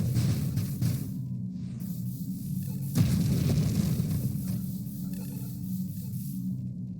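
Explosions in the space shooter game Nova Drift: a deep rumbling boom lands near the start and a louder burst hits around the middle, each trailing into a low droning roar.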